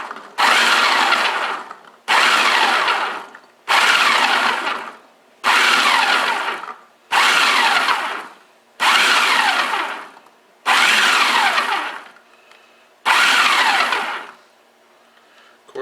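Two cups of cranberries being chopped in an electric blender or chopper: eight loud, evenly spaced whirring pulses, each lasting about a second and a half, separated by short pauses.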